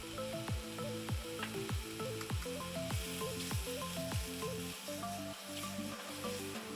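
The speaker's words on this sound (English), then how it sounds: "Then we're going to add our king oyster mushrooms." King oyster mushrooms, onion and garlic fry in oil in a pot, a soft continuous sizzle under gentle background music with rhythmic stirring and no talk.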